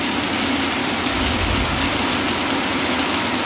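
Heavy rain pours down in a village during a monsoon storm, a dense, steady roar of water hitting surfaces that stays loud and even throughout.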